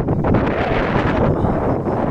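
Strong wind roars continuously across a mountain peak near General Santos City, buffeting the microphone with a loud, steady rushing noise and gusty low rumble throughout.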